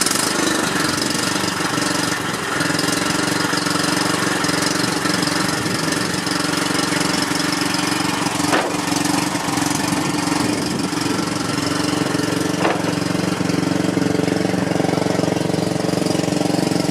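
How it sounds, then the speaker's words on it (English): A Cub Cadet lawn tractor engine runs steadily at a constant throttle outdoors on a farm, a loud, continuous mechanical drone with a knocking texture and no voices over it. "unload the lawn tractor."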